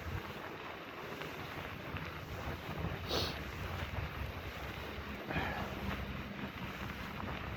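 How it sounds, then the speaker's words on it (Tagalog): Wind blows across the microphone outdoors on a cold, snowy winter day, making a constant rough rumble with occasional stronger gusts and no voices. "May hangin kasi."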